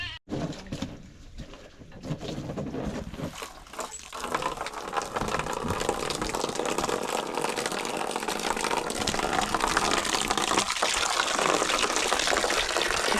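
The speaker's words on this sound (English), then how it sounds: "I'm gonna fill it up with more water." Water gushes steadily into a pig's water container as it is refilled, a loud, close, continuous rush that builds after a brief start and keeps going throughout.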